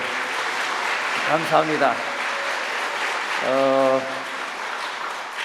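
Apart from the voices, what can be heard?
audience applause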